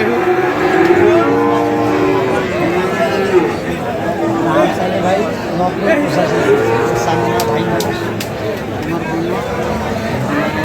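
A cow at a busy cattle market lets out repeated drawn-out moos, loud and close, over steady crowd chatter and people talking nearby.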